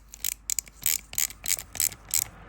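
A 10mm ratchet clicks in quick bursts of sharp pawl ticks, about six short runs over a couple of seconds, up close while tightening a faulty unloader valve part on a Unimog U1300L.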